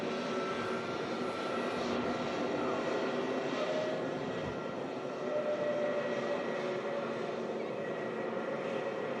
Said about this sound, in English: Next to land, Emirates A380 to finish up today.